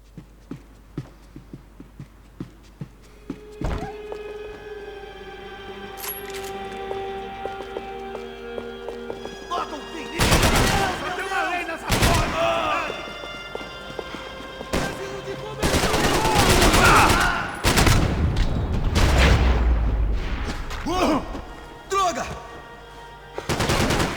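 Gunfire in the Max Payne 3 video game: after about ten quieter seconds of low tonal background, loud repeated shots and bursts break out in dense clusters, close and forceful, with no talk.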